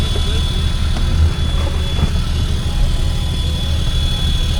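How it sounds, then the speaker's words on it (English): A car engine revving loudly at night, a thick steady roar that fills the whole clip, with voices faintly underneath. "Rev it."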